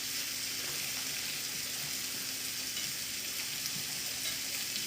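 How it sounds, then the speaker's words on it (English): Broth is whisked into a simmering pan of gravy for Swedish meatballs, making a continuous close sizzling, bubbling wash with faint stirring scrapes and no talking. "And we're making sure to whisk."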